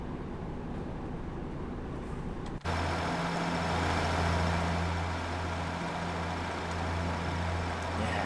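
In the Train Simulator Classic game, a Class 156 diesel multiple unit on the Buxton line idles, then its engine steps up into a steady droning rev with a strong low hum that holds without talk.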